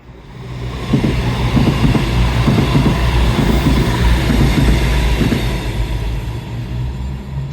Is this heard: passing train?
yes